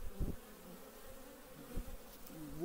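A Carniolan honeybee hums faintly near the hive during a spring colony inspection, a low steady drone with a couple of soft thumps, no talking.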